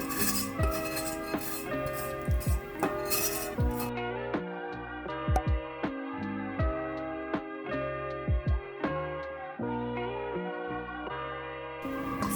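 Browned butter is scraped and poured from a pot into a bowl, giving a run of close, sharp metallic clinks and scrapes against the cookware with steady background sound underneath.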